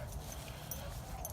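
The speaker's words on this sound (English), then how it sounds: "So I've got someone out here with their dog coming up on me." A dog approaching with its owner outdoors, heard as faint, soft whimpering noises over a low, steady outdoor rumble throughout.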